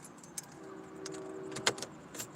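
A car key slides into the door lock of a Toyota Camry, a short metallic scrape and jangle of keys over a low steady background hum, close and fairly quiet.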